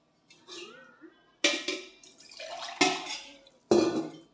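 Water is poured into a pressure cooker in several separate splashing bursts with brief pauses between, close and fairly loud, with faint clinks of the vessel.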